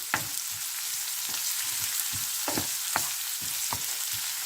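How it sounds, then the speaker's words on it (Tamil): Curry leaves hit hot oil for a broccoli fry, giving a close, continuous crackling sizzle with sharp pops bursting at irregular intervals. "ஒரு கொஞ்சம் கருவேப்பிலையை முதல் இதோட தாளியுங்க."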